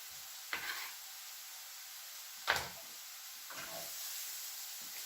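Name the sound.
onions frying and sizzling in a pan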